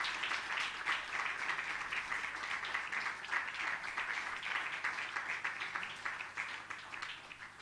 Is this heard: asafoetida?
no